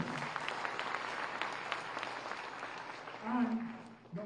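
Applause at the prize ceremony of the FIDE World Junior Chess Championship 2024 in GIFT City, Gandhinagar: a soft, distant wash of many hands clapping, with a voice briefly cutting in near the end.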